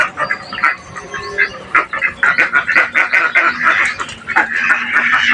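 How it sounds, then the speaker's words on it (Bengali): Ducks gather inside a house in a rural village and call close by, their rapid, overlapping quacks and chattering rising in irregular bursts. "তো দেখেন এই যে হাঁস ঘরের ভিতরে।"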